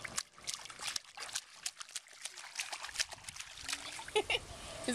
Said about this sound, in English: He's gonna splash the camera.